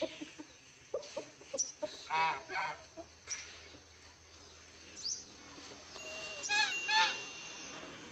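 Village hens cluck and squawk in short, intermittent bursts at close range, with louder honking calls near the end and people talking quietly in between.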